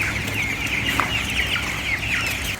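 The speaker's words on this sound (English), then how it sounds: "It's just a rooster this time." A young rooster crows and clucks close by on a farm on a rainy day, a steady rasping call with a few short sharp notes over continuous rain hiss.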